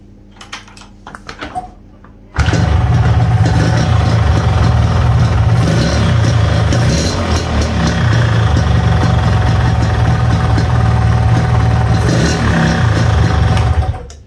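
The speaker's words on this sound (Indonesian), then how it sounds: "Cuman yang ini mesinnya trouble. Mesinnya ngeguruh. Jadi ngegetar tapi ngeguruh." Yamaha RX King motorcycle engine with a troubled, newly replaced block starts after a couple of seconds of quiet, then idles loud and steady with a deep rumbling, vibrating drone throughout.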